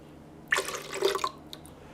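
Fresh lemon juice trickles and drips into a salad dressing of orange juice, a short, quiet, close pour of about a second with a few drops after it and no talking.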